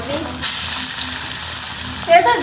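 Fritters deep-frying in oil, a close bubbling sizzle with a sharp burst of hiss near the start and a brief stir near the end, no speech.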